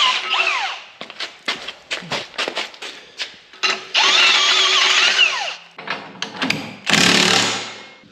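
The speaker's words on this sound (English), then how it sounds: "I could drill them in." A power drill drives bolts in, with short rhythmic pulses of whining motor followed by longer sustained runs, loud and close, with no talk.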